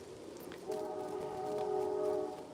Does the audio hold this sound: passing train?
yes